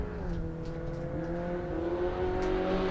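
A Van Diemen Formula Ford race car, built by RGM, exits a hairpin leading the race: a steady, droning engine note holds through the whole stretch, rising slightly in pitch as the car accelerates at moderate distance.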